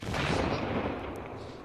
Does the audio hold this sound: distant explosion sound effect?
yes